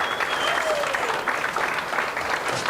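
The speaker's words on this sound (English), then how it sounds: "Can you give him a nice round of applause?" Applause from a stand-up comedy audience, a dense even wash of clapping that holds steady for a few seconds without pause.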